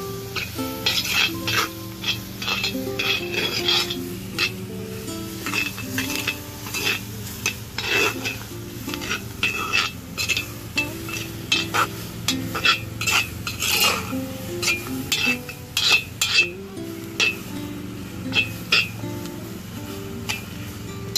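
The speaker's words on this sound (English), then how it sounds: "Cook it down so that onions get a little soft" Onions cook down in a pot for beef stew while a utensil stirs them, making repeated close scrapes and clinks over a steady low background and a soft sizzle that runs throughout.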